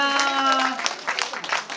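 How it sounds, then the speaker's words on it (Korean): Guests at a child's celebration clap as the child and parents make their entrance, scattered claps coming in after a sustained musical tone, with voices mixed in. "다시 한 번 더 박수 부탁드리겠습니다."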